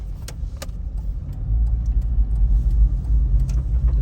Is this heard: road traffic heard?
yes